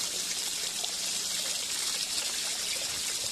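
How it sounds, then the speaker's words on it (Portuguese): Water splashing and trickling out of an aerator fitted to a water tank connection under increased pressure, a steady close hiss of spilling water with no talk. "quando aumenta a pressão aí é que fica jogando água para fora"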